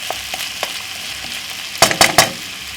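Salmon frying in a pan over medium heat for salmon fried rice with vegetables, a steady close sizzle with a few louder crackling bursts near the end.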